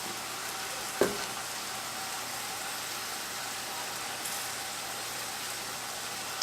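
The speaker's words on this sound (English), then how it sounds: "already have the meat cooking" Ground beef frying in a pan for tacos, giving a steady, faint broadband sizzle with a single sharp clatter near the start and no talking.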